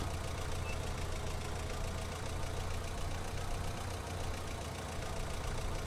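A forklift engine in Farming Simulator 19 runs with a steady, continuous drone, loud and unbroken with no talk over it.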